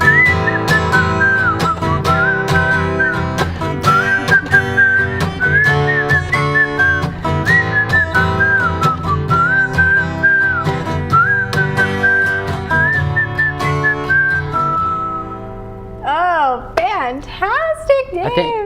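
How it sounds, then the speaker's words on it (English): A person whistles the melody of a song loudly and close, in steady repeating phrases over backing music. A few wavering whistled notes close out the tune. "I think the whistling makes that song."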